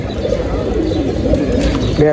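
Pigeons offered for sale coo in low, throaty, repeated calls close by, with a brief burst of chirping near the end.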